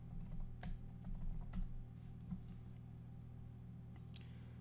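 Typing on a computer keyboard to enter a search, with a quick run of clicky keystrokes followed by a pause and a single final tap, close and moderately quiet over a faint steady hum.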